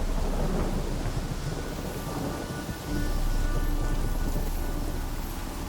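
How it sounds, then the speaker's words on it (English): Steady heavy rain pours through a thunderstorm in The Witcher 3 video game, a dense continuous wash with a deep rolling rumble of thunder underneath, loud and unbroken apart from a brief dip midway. "A storm, damn it."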